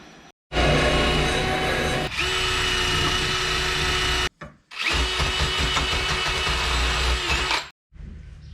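A power tool whirs at high speed while cleaning up the door hinges of a 1951 Chevy Deluxe, running in two long loud bursts with short pauses between them.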